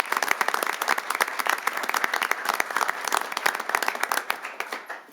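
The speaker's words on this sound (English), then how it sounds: "Can we have one more round of applause for our employees?" People at a city council meeting give a round of applause for city employees, a brisk, fairly close patter of many hands that tapers off at the end.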